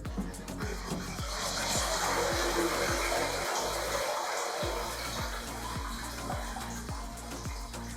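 A steady mechanical whir with a rhythmic pulsing churn as an underwater scooter runs its cleaning cycle in water, running continuously and fairly close.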